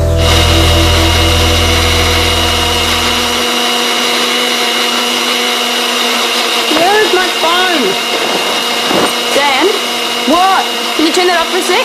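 A kitchen blender whirs loudly for a few seconds, then stops abruptly, leaving voices talking over a steady background hum.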